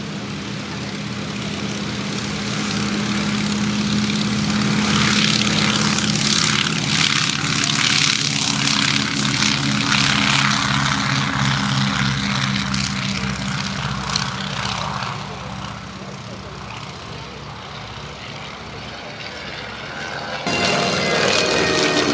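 An Avro Anson Mk.I twin-engine propeller aircraft takes off at the La Ferté-Alais air show, its engines building to a loud, steady droning roar that slowly fades as it climbs away.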